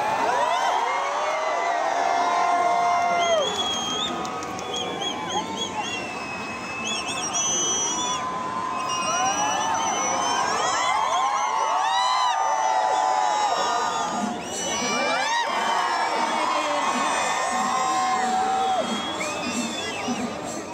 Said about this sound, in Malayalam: കാത്തിരുന്ന പൂരപ്രേമികൾ ആരവങ്ങൾ മുഴക്കി